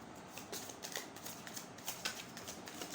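Tarot cards shuffled by hand in quick, repeated riffling bursts, a steady papery flutter with soft slaps that carries on without pause.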